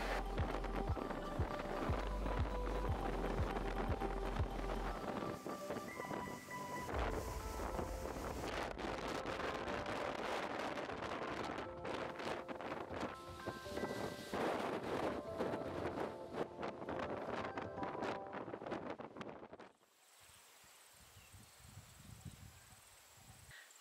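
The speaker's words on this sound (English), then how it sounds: "lovely sunny day, but so windy, so windy" Strong wind gusts outdoors on a sunny day near a caravan, a loud continuous roar and buffeting that drops to a quieter hiss near the end.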